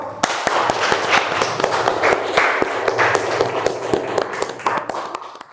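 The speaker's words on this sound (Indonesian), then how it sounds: "Tepuk tangan untuk Rifa" Classmates clap for a student in a classroom, producing a loud burst of rapid, uneven hand claps that continues steadily and eases slightly at the close.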